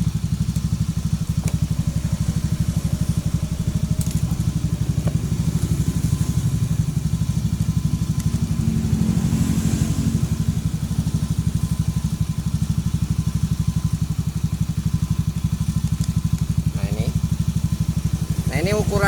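A Honda Beat scooter engine runs at a steady, loud idle with a buzzing rumble, while someone talks over it.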